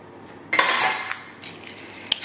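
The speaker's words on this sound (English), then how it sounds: "And then mix all of your dry ingredients together." Dry pancake bite ingredients (baking powder and a pinch of salt among them) being mixed in a bowl, heard as a scraping burst of utensil-on-bowl clinks followed by lighter stirring and one sharp clink, close and without talk.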